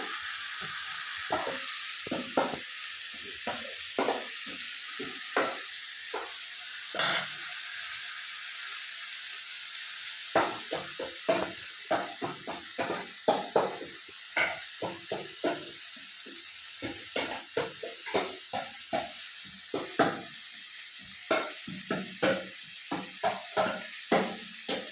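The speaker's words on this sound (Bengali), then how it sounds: "এই যে ফুলকপি, মাছ, পেঁপে দিয়ে মাছের ঝোল হচ্ছে" Fish curry with cauliflower and papaya cooks in a pan, with a steady sizzle under repeated scraping and clinking strokes of stirring, close and fairly loud throughout.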